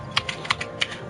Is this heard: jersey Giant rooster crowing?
no